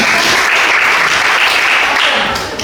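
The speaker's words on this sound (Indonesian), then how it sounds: "Tepuk tangan." Loud, close applause from a room of participants at a school counselling training workshop, a thick burst of clapping that stays even before tapering off at the end.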